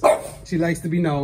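A young female French Bulldog barks indoors in a studio, with short sharp barks mixed in among a person talking over them.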